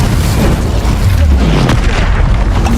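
A Confringo spell blast in Hogwarts Legacy, a loud, close, deep booming rumble that stays heavy and continuous for a few seconds.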